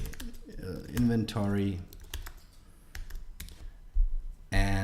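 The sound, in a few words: typing on a computer keyboard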